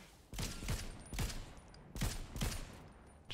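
Gunfire in a video game, four or five short sharp bursts spaced roughly half a second apart, loud and close against a quiet background, with no talk.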